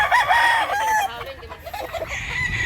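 A rooster crows loudly and nearby, followed by a few clucks and murmuring hens in the background.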